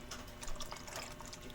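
Liquid poured into a pot of macaroni soup with evaporated milk, a faint steady trickling and splashing pour heard close and alone.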